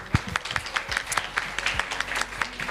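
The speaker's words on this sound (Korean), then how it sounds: "준비해 주신 선생님들께도 감사의 큰 박수 한번 주시면 고맙겠습니다." An audience at a university job-support centre event claps, sharp irregular hand claps from a modest crowd, moderately loud and close, without talk.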